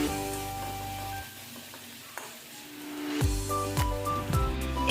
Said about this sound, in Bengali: 2 মিনিট ভালোভাবে নেড়েচেড়ে ভেজে নিচ্ছি।